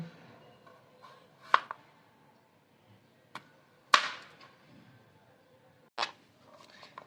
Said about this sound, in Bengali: এবারে আমি আলুটাকে কেটে নিব